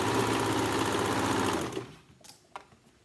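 A serger whirs in a fast, steady run as it sews the waistband onto a circle skirt, then stops after about a second and a half, leaving a few small clicks and handling noises.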